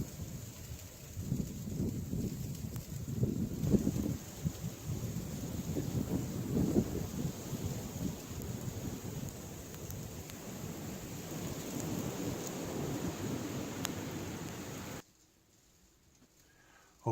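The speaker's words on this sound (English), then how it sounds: "all the little pieces of frozen, snowy ice pelting the window here a little bit" A blizzard with high winds heard from indoors, with small pieces of frozen, snowy ice pelting a window. The result is a continuous low rumbling wash with faint ticking grains, fairly quiet, ending in near silence.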